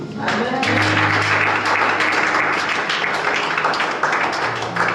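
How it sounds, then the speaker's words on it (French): Church congregation during a sermon clapping and cheering to acclaim God: a dense, loud burst of applause mixed with voices calling out, sustained for several seconds. "Est-ce qu'on peut acclamer notre Dieu?"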